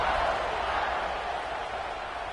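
A college football stadium crowd roars in a steady, dense wash of cheering during a kickoff, loud and continuous without breaks.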